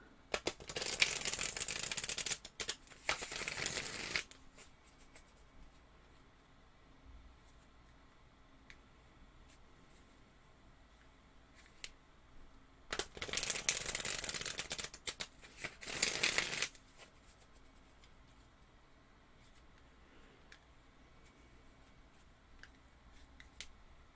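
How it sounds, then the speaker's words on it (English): Cards are riffled and shuffled in two bursts of crisp, rapid flutter, separated by a long quiet stretch of faint handling noises. "This deck is a little bit cumbersome to shuffle"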